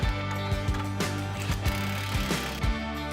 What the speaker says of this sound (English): Then finish installing the remaining side frame bolts.